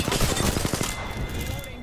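Gunfire in the Apex Legends video game: a dense, rapid burst of loud, close shots for about a second, then trailing off into a fading echo.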